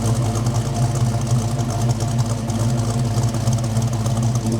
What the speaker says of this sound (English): They sound so good with a mid-length header straight out the back with an H pipe.